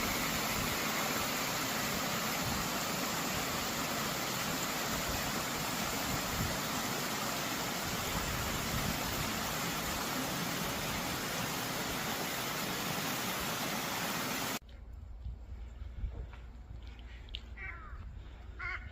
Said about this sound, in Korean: 물소리가 돌돌돌돌 나네